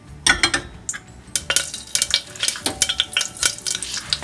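Cumin seeds hit hot oil on a low flame and sizzle, with rapid crackling pops. A utensil stirs and clinks against the pan close by throughout.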